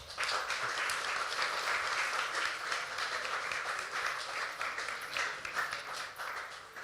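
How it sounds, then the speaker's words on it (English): Audience applause for two young performers at a Diwali puja music program at an ashram in Victoria, Australia, sustained crowd clapping at moderate distance, steady for about seven seconds. "And another round of applause for them"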